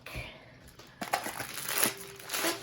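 Plastic wrapping crinkles and crackles as pink crafting material for a wreath is unwrapped, coming in short, close rustling bursts with quieter gaps between them.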